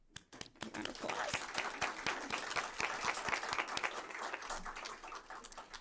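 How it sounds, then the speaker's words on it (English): Sustained applause from an audience at a school board meeting, a dense wash of many hands clapping that stays steady and fairly loud for several seconds with no one talking over it. "Round of applause."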